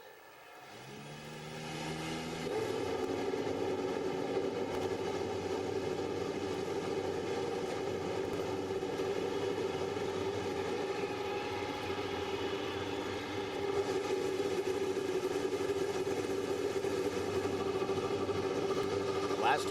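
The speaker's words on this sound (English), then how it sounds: "start your engines." A field of IndyCar race cars fires up at the Milwaukee Mile, a loud sustained engine roar swelling after a quiet first two seconds and holding steady with layered harmonic drone, an announcer's voice carrying over the crowd.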